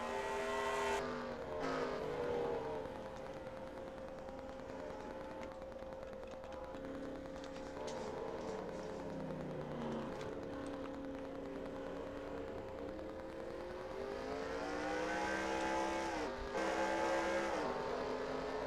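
NASCAR stock cars race at Mid-Ohio in the NASCAR Racing 2003 video game, engines droning and rising and falling in pitch as cars rev and pass, continuous and fairly loud throughout.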